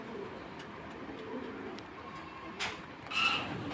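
A pair of jelly pankhi pigeons cooing softly, low murmuring calls at a fair distance with a few sharper clicks and rustles near the end.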